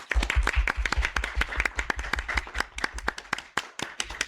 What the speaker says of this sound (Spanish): los recibimos a todos con un fuerte aplauso